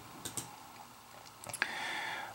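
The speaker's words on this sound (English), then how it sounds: "Sometimes in Stat-Cato you'll type in the column." A few quiet keystrokes on a computer keyboard, sparse isolated clicks as a column name is typed into statistics software, with a faint room hiss between them.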